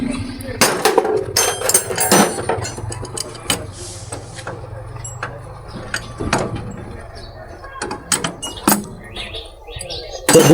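Nuts on a car's shock absorber are loosened with hand tools in a workshop, producing sharp irregular metallic clanks and clicks scattered through the clip, with faint birdsong and background noise around them.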